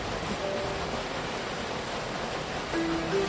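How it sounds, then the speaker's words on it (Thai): Water from freshly melted snow flows steadily, a broad continuous rushing hiss that stays even throughout. "ได้ยินเสียงน้ำไหลนะครับหิมะเพิ่งตกเมื่อคืนวันนี้ หิมะละลายน้ำก็เลยเต็มเลยครับ"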